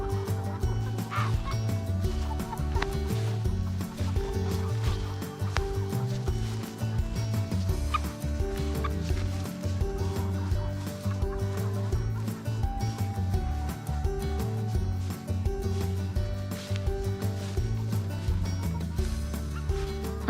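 A flock of free-range hens on a farm near Uddeholm, Sweden, makes a dense, continuous chorus of clucks and calls close by, steady and loud throughout.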